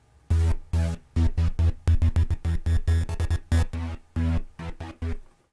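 Distorted sawtooth synthesizer plays a choppy sequence of short, gritty bursts in an uneven stuttering rhythm, loud and upfront, alone without any voice.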